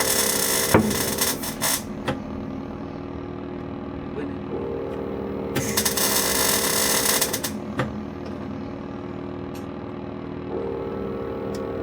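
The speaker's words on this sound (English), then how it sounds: "That was the whole panel coming out" Dented body panel on a Nissan S14 popping back out during dent removal, heard as two loud broadband bangs amid workshop clatter and mechanical rumble.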